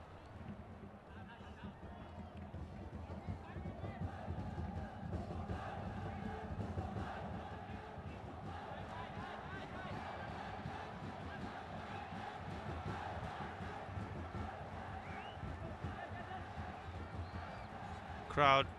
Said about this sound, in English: Crowd now getting excited.